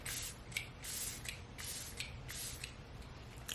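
Watermelon face mist spray bottle spritzing, a series of short airy hissing bursts in a steady rhythm, close by and fairly quiet with no talking.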